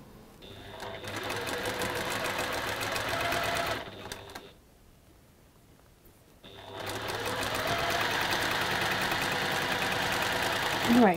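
A domestic sewing machine stitches quilt block corner units in a chain, a close steady mechanical whirr that stops for a couple of seconds, then runs on again.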